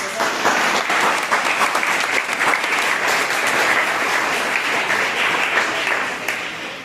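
A room of schoolchildren at a quiz competition claps loudly and continuously for students who answered correctly, a dense, even burst of applause that fades slightly at the end.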